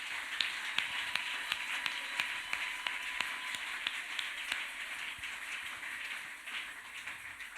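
Church congregation applauding together as an offering of acclamation during a worship service, a steady wash of many hands clapping with scattered sharper claps, sustained evenly throughout at a moderate, somewhat distant level.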